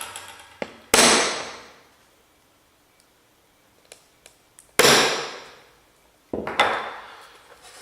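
Three sharp metallic hammer strikes on a centre punch marking hole centres for drilling, with ringing decays, separated by pauses, with a few light taps and clicks in between.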